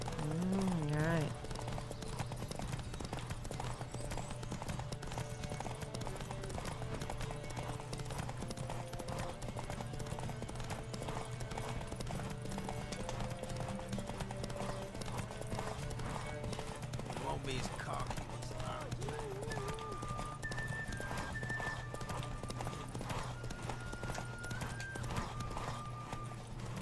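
Horse hooves clip-clop steadily in The Witcher 3 as the rider travels on horseback, a continuous rhythmic trot under game music, with a brief whinny near the start and someone speaking over it.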